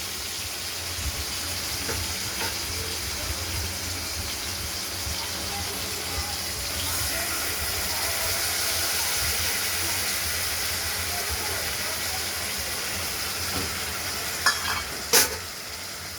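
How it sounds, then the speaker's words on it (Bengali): Potatoes and tomatoes fry in a pan for a fish curry, giving a continuous dense sizzle with occasional stirring scrapes and a couple of louder clinks near the end. "আলু টমেটোটা একটু ভাজা ভাজা ভাব হয়ে গেছে।"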